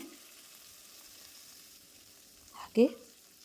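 Green and dried chillies fry in a pan over a low flame with a quiet, steady sizzle. A brief clatter of stirring comes near the end.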